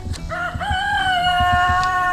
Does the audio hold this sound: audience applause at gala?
no